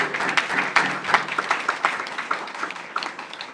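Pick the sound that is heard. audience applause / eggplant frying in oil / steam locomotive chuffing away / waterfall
audience applause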